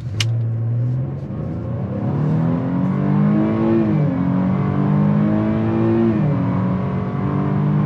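A 2022 Chevy Blazer RS accelerates hard in all-wheel drive. Its steady engine drone climbs in pitch through several upshifts, each gear change marked by a brief dip before the rise resumes. The sound is close and continuous, with no talking.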